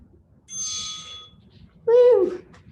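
A workout timer bell gives a bright metallic ding, followed by a second, louder chime-like tone about a second later, both fairly near and alone.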